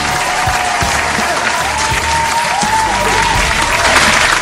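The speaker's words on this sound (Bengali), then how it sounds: "আমাদের বিচারক মণ্ডলীর জন্য একটা জোরে হাততালি হয়ে যাক" Loud, dense applause from an audience at a junior dance competition show, honoring the judges' panel; sustained clapping at full volume throughout, with faint tonal music running underneath.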